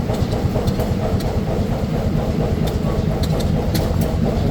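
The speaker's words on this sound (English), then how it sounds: "I'm gonna look at this tractor real quick" An F-Series tractor engine runs at a show day, chugging in a steady low rhythmic idle, close and loud, with occasional metallic clicks above it.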